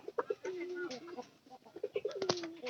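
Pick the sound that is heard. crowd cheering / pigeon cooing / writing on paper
pigeon cooing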